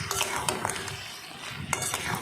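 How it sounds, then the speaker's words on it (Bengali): Crab curry stirred in a pan with a utensil, a few scraping, clinking strokes against the metal over a soft sizzle, close and fairly quiet, with no voices. "ব্যাস একটু নাড়িয়ে নিচ্ছি।"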